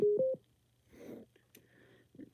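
A cheap eBay Bluetooth adapter plays two short rising electronic beeps through a speaker as it enters pairing mode, clear and close. Faint muffled noises follow in a quiet room.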